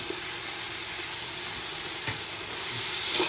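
Onion, coriander, mint and roasted masala fry in a pan for a chicken basmati biryani, a loud, steady, close sizzle with a bright hiss that swells toward the end, with no talking.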